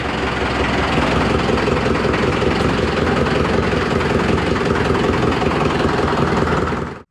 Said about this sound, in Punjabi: ਹੁਣ ਬਾਹਰ ਕੱਢ ਲਿਆ ਟਰੈਕਟਰ ਆਪਾਂ